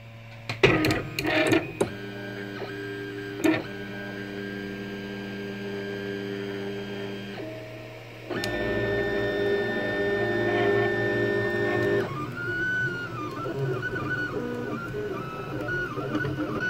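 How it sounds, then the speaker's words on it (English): An Anet A3 3D printer laying down its first layers gives off a steady whine of stepper-motor tones that shifts pitch between moves, with a few sharp clicks at the start and a low electrical hum underneath. "The printer will start to heat up."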